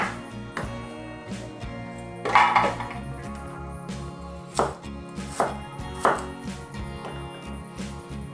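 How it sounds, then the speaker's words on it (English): Knife chopping garlic cloves on a board for spinach pesto, a steady run of sharp close taps with a few louder strikes, over faint background music. "I'll just chop these garlic into smaller pieces"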